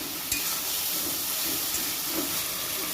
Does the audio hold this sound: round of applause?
no